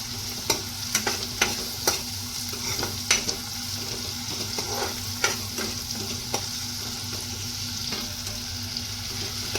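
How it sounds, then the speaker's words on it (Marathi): Onion and tomato sauté in a pan, a constant sizzle with sharp spatula scrapes and taps, quickest at the start and then more spread out, close by, with nobody talking. "त्याच्यामध्ये आपण टॉमॅटो टाकून घेऊया सुद्धा थोडा नरम होईपर्यंत असा परतून घ्यायचा"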